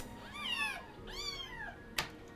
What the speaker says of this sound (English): So another one I took is some baby kittens.